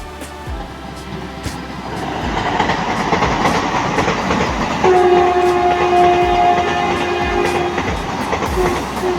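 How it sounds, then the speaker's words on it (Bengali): A Vande Bharat Express runs toward New Cooch Behar railway station, its wheels rumbling and clattering steadily as it approaches, with a two-tone horn sounding midway and continuing over the rolling noise. "ফ্রেন্ডস ফাইনালি কিন্তু বন্দে ভারত ট্রেন আসছে"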